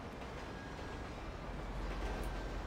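A train in GTA 5 Online rumbles past with a steady, dense roar of wheels and rail noise, loud and continuous throughout, with no voices.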